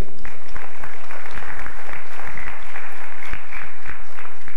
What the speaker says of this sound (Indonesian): Aplaus sekali lagi.